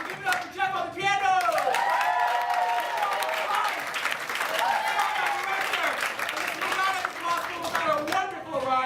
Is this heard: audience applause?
yes